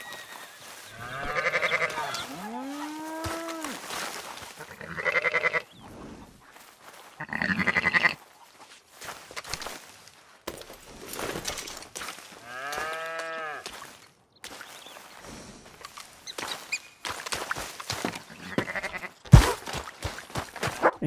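Sheep bleat in a pen in Red Dead Redemption 2, several wavering cries spread across the stretch with quiet gaps between them, some near and some fainter.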